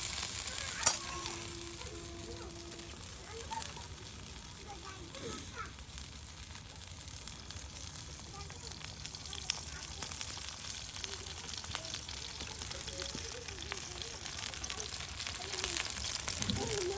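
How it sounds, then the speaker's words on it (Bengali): Eggplant fritters fry in a pan at a village home kitchen, giving a steady close sizzle and crackle throughout, with faint background sounds. "দেখুন বেগুনের বড়াও কিন্তু এখন ভাজি ভাজি হয়ে গেছে।"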